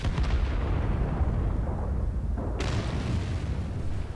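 In World of Tanks on the Sacred Valley map, a tank gun shot strikes a front armor plate: a heavy, rumbling blast followed by a sharp, loud crack of impact, with no voices.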